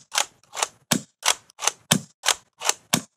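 A gas-operated REKT Opfour M16-style Nerf blaster fires eight sharp pops in a steady semi-auto rhythm, each shot a loud close crack with a short hiss, with no voices.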